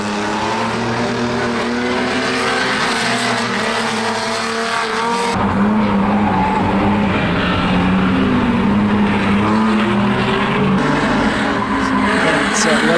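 Classic pre-1975 racing cars roar around the King's Lynn circuit, engines loud and continuous with a shift in pitch midway as cars pass close, a commentator talking over the din throughout.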